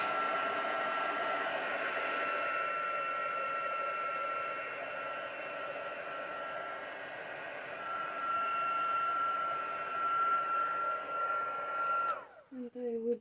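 Steady blowing roar of a heat gun drying a junk journal page, a loud constant whir holding for about twelve seconds before cutting off abruptly.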